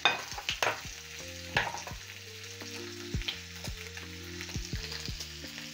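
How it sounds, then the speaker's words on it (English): Bacon fries in a pan with a quiet crackling sizzle and sharp pops, while clattering clicks and a tonal hum or beeping sound around it in a kitchen. "As my bacon is cooking"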